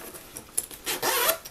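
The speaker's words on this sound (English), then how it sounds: "zippers are nice and smooth." A zipper on an Anello backpack is pulled open in a few short quiet zips, close up, with faint rubbing of fabric and no talk.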